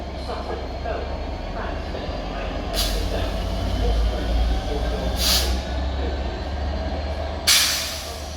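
Train carriages couple up at London Victoria station, the low rumble of an idling train broken by three sharp bursts of hissing air, with a louder thud-like burst near the end.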